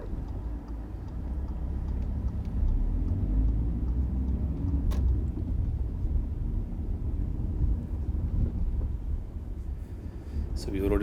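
A car drives steadily around the Sharston roundabout off Princess Parkway in West Didsbury, its low engine and road rumble constant throughout with some wind noise against the microphone.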